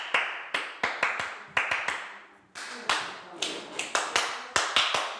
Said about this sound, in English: So clap, clap, then you do like that rhythm thingy, then you clap 2 times.